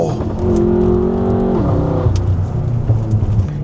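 A tuned V8 BMW M5 engine revving up loudly, its pitch rising then dropping as it shifts gear, close and continuous.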